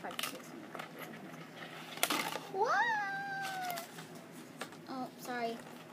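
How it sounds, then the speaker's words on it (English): A house cat meows indoors, giving one drawn-out rising and falling cry and then a shorter, fainter meow a little later, over a quiet room background. "That was my cat Hayden"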